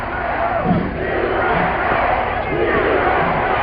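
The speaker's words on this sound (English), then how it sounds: "Listen to the crowd." A packed professional wrestling arena crowd shouts and roars continuously during a match, a dense, loud wall of voices with no clear pauses.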